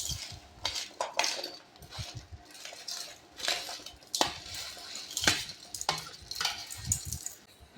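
Mango pickle pieces are stirred with coarse salt in a pot, giving a close series of irregular clinks and scrapes of a utensil against metal, with soft rustling of the pieces between strokes.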